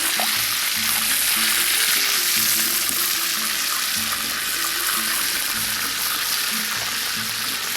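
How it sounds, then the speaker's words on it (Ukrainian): Hot oil sizzles loudly and continuously in a pan on a charcoal grill, ready for frying potatoes, a close, steady crackling hiss that never lets up, with no talking. "Ось так, олія закипає."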